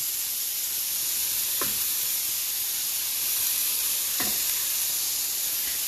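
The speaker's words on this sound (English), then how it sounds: "The rice is still cooking, as you can see. It's over here, bubbling away." White rice simmers alongside teriyaki chicken, squash and zucchini on a grill, giving a steady, loud sizzling hiss throughout, broken by two short sharp crackles.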